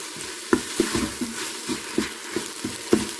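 Stuffing and garlic frying in a pan while being stirred, with a steady sizzle under a series of sharp scraping knocks from the spoon or spatula, close and moderately loud.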